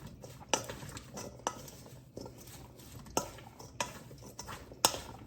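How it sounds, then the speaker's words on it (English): Quinoa salad stirred in a bowl, with soft scraping and several sharp clinks of a utensil against the dish at irregular intervals, close and fairly quiet. "I'm gonna stir this up just a little bit"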